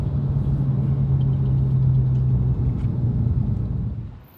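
A Porsche 997.2 Turbo S in sport mode drives over road bumps, giving a steady low rumble of engine and tyres with a sustained drone that fades out near the end and no talk.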